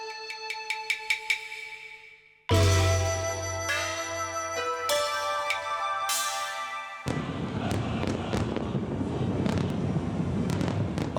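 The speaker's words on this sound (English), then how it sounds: "fireworks which light the night skies" Fireworks bursting over Hong Kong on the October 1st national holiday: a run of sharp pops and crackles, then loud, ringing bangs with sizzling tails, ending in a dense, continuous barrage of crackling explosions.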